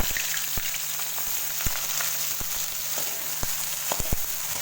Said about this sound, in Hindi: अब घी हमारा काफ़ी गर्म हो गया है। अब इसमें हम प्याज डालेंगे।